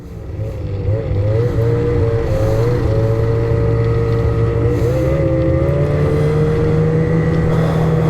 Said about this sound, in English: Looks like a groomer coming around the corner here.